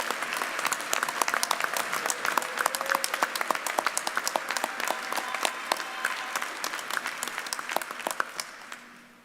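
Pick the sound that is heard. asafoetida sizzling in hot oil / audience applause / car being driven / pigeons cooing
audience applause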